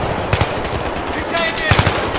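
Video game gunfire from Battlefield 3, with bursts of automatic rifle shots in short clusters over a constant noisy battlefield background, fairly loud and close.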